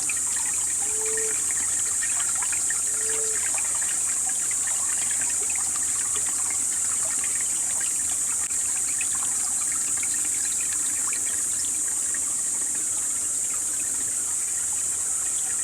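Clear stream water flowing in a small canal below a garden at a rural Sri Lankan home place, a steady close rushing and trickling wash that continues evenly throughout.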